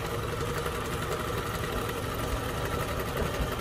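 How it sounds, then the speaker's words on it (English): A sewing machine running a quick stitch through cotton batting for a layered face mask, a steady close mechanical hum and whir holding at an even level throughout with no pauses. "I'm gonna run a quick stitch here."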